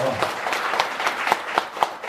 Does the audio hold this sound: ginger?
no